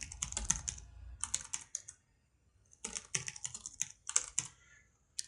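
Rapid keystrokes on a computer keyboard as a password is entered, in two close bursts of clicky tapping separated by a short pause, with no voices.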